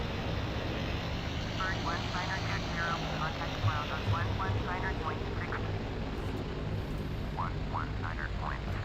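Vickers Vimy biplane taxiing in Flight Simulator X, a steady loud propeller engine drone running throughout, with a voice talking over it.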